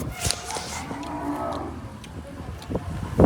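A cow at a cattle shelter (panjrapol) with an injured leg gives a long, low moo that swells in the middle, close by amid faint background shuffling and clatter, with no talk.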